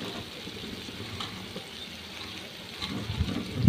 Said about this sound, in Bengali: এরপরে এর মধ্যে জল দিয়ে দেবো পরিমাণ মতো।